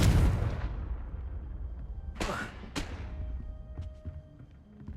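A Confringo fire spell blast from the video game Hogwarts Legacy: a loud booming burst up front that trails off, followed by a couple of sharp cracking impacts and faint game ambience.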